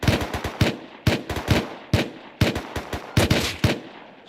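Bursts of automatic gunfire from the survival game Rust, loud and close, come in rapid clusters of three to five shots with brief pauses between them.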